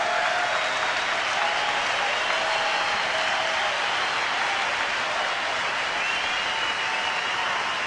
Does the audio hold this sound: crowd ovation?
yes